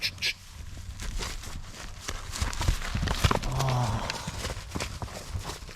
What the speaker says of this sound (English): No, stay there horses.